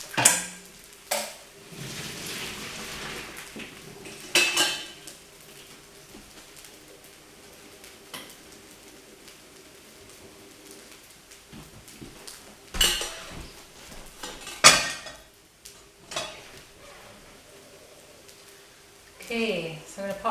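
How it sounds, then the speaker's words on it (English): Vegetables being stirred through egg fried rice in a pan, with scattered clinks and scrapes of utensil on pan and a soft sizzle underneath, separated by quieter stretches. "I'm just going to drain my veg and then I'm going to stir that through the rice as well."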